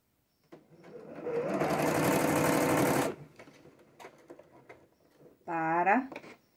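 Sewing machine stitching a six-point patchwork star, one steady run of about three seconds, then someone speaking Portuguese close by.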